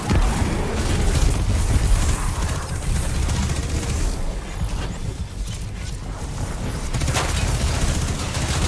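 Dense, continuous SMG fire in the sci-fi shooter Destiny 2: Witch Queen, a loud steady barrage of rapid shots with booming impacts layered over it, unbroken for several seconds.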